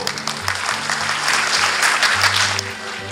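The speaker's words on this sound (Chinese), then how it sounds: "也给谢市长一个掌声啊" A hall audience at a model fathers and good deeds awards ceremony applauds Keelung Mayor Hsieh Kuo-liang, loud sustained clapping swelling and holding steady for several seconds with no talk over it.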